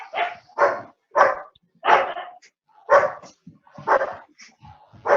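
Dogs bark at a factory site in a rapid series of about seven loud, close barks at fairly regular intervals with brief gaps between them.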